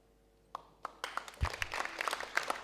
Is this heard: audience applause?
yes